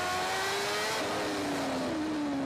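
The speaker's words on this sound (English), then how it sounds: "You can hear it just shutting off the revs." A racing motorcycle engine heard on board at the Macau Grand Prix: a loud, continuous high whine as the revs ease down steadily, with no talk.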